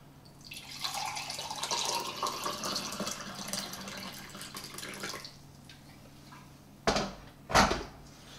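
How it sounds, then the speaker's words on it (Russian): Water is poured from a mug over an orchid herbal preparation, a close, splashing gurgle lasting several seconds, followed by a pause and two sharp knocks or drips. "Заливаем примерно вот такой кружкой."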